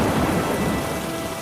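Heavy rain pours steadily through a dark stormy night by an earthen embankment, with a low rumble of thunder rolling beneath the dense hiss of falling water, continuous and fairly loud with no voices.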